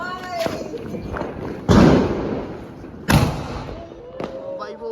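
Diwali firecrackers go off at a family celebration with two loud, sharp blasts about a second and a half apart, each followed by a decaying boom. Voices and background chatter run between the bangs.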